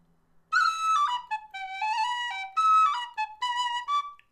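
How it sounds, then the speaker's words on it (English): A D tin whistle playing the tune Cutting the Bracken, a clear solo melody of bright held and ornamented notes with short breaks between phrases. "if I'm on the whistle playing a sung version, you could do that"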